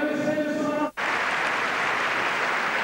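Broad, steady applause and cheering from the crowd at the 2003 Hamburg Masters tennis final salute champion Guillermo Coria, a dense wash of clapping that follows a brief tonal sound, breaks for a moment, then continues evenly.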